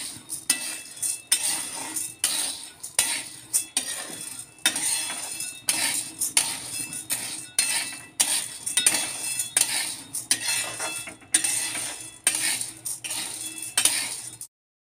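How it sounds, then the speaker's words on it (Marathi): Chana dal being dry-roasted in a pan on low heat, stirred with a metal spoon: repeated rhythmic scraping and clinking strokes, close and fairly loud, alone without any talk. "आता इथे हरभरा डाळ भाजून घ्यायची आहे।"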